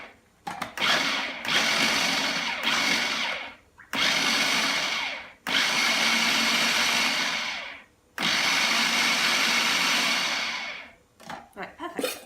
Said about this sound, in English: You want to really just pulse it and blitz it in small amounts.